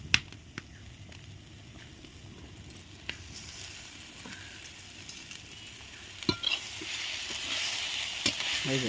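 Eggplant and fenugreek leaves fry in a pan over a clay stove, giving a faint, steady sizzle with occasional sharp clicks and scrapes from stirring, and no voices.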